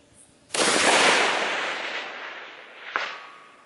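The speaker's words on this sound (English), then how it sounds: "I'll take a shot at the very top and see if it clears over it" A single long-range rifle shot on an open shooting range, a sharp loud crack followed by a long rolling echo that fades out, with a fainter report arriving about two and a half seconds later.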